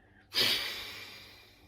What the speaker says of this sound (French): Jusqu'au bout de l'expire. Inspire de manière relâchée. Expire.